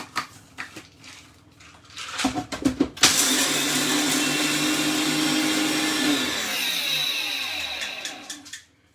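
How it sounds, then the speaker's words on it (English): A blender blitzes about 200 grams of cashews for an energy-ball mix, a loud steady whirring roar that kicks in after a few bumps and rattles, holds for several seconds, then winds down at the end. "I'm just going to blitz this up a little"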